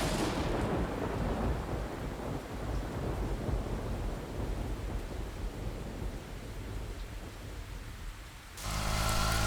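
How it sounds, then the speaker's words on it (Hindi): Heavy rain pours outside during a storm, a steady dense roar of downpour with rumbling thunder, loud and continuous before a sudden cut to a different, brighter sound near the end. "अरे बाहर इतनी बारिश हो रही है"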